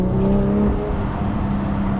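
Toyota Supra engine running steadily and close, with a continuous low drone and rumble that swells slightly, while faint crackling exhaust pops come through underneath, with no talking.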